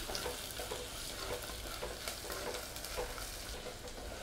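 Shallots and tomato sautéing in oil for an anchovy fish curry, a steady close sizzle with occasional stirring scrapes throughout, no voices.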